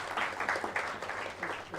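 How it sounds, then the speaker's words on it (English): An audience at a transfer pricing study course applauds, a dense patter of many hands clapping together, steady and fairly loud without talk. "request you to carry it with loud applause"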